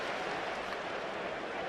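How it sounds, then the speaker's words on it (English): Knowledgeable rugby crowd at the Vancouver Sevens, a New Zealand v England Cup quarter-final, applauding in a steady, dense wash of clapping from a large stadium audience, continuous and fairly distant with no break. "Giving him a round of applause for staying out there."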